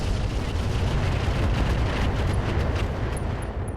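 Mech weapons firing in the video game RogueTech, a dense, roaring barrage of explosive blasts rumbling continuously at high volume with no pauses.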